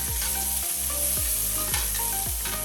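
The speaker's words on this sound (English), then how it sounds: "We're starting off with a little bit more butter, and we're going to throw our onion in." Chopped onion frying in butter in a pan, giving a loud, close, continuous sizzle with a few soft stirring scrapes.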